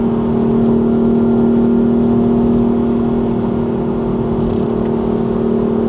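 A 2018 BMW M4's engine revs steadily and loudly from inside the car during a downshift on a winding road, a constant droning roar with no talking.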